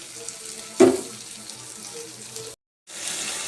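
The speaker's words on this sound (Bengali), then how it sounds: "পেঁয়াজটা ধুয়ে নিয়েছি, একটু হালকা লাল লাল করে ভাজবো" Washed onions frying in hot oil, a close, steady hiss of sizzling with a brief louder clatter near the start and a short silent gap before the frying sound resumes, no talking.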